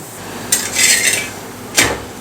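Drumstick-leaf thalipeeth flipped in a pan to roast the other side: a sharp metal clatter of the spatula against the pan, a brief scraping rattle, then a second distinct clank, close and alone.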